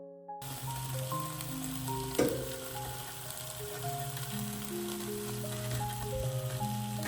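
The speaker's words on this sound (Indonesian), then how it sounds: "Nah sekarang kita mau masak satenya dulu nih teman-teman." Satay skewers grilling at a big family Lebaran cook-up in England, a steady, dense sizzle with crackling spits running throughout, one sharper pop near the middle, and a music track playing underneath.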